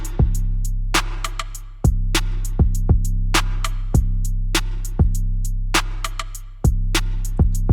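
A hip hop beat with a deep sustained bass, punchy kicks and a snare trailing a short reverb tail from Logic Pro X's ChromaVerb plugin, looping steadily with no voices.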